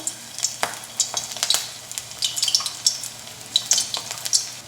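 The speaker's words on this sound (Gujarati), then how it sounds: "અહીંયા તેલ ગરમ થઈ ગયું છે, તો તેમાં આપણે મુઠિયા તળવા માટે મૂકતા જઈશું" Muthiya dumplings hit hot oil in a pan and fry with steady crackling sizzle, broken by clinks of a spoon or ladle against the vessel, with no talking.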